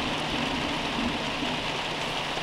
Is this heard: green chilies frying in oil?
no